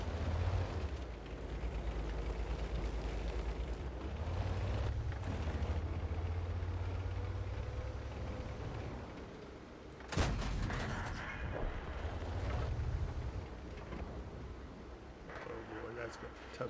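Tank cannon fire in a tank battle video game, including a KV-1 tank, comes as a few sharp booming shots, one especially loud blast midway, over a low rumbling engine drone, with someone commenting throughout.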